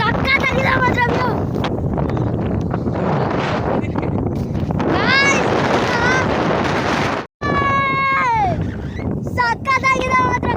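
Strong wind buffets the microphone at a hilltop viewpoint on Hulukudi near Doddabalapura, a loud steady roar under a person talking, with high squeaky tones and a brief dropout near the end.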